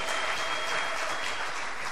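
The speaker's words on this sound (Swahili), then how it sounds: "Est-ce que nous pouvons acclamer très fort cette lecture?" A church congregation applauds a scripture reading, a steady wash of many hands clapping together with no voices, even and fairly loud throughout.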